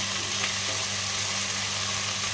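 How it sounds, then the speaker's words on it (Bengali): Ginger-garlic paste fries lightly in a pan for rui fish curry, giving a steady, even sizzle close by over a low background hum. "এটা একটু হালকা ভেজে নেব"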